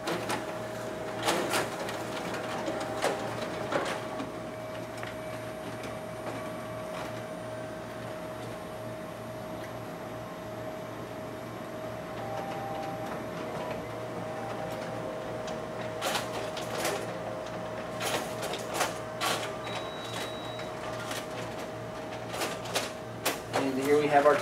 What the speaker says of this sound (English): test out the document feeder as well as the stapling features on our internal finisher